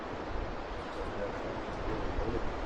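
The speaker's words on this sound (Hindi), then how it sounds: "और सामने ये नदी बह रही है।" A mountain river in the Darma Valley rushing steadily as a dense, continuous wash of broadband water noise, close and fairly loud, with no distinct events.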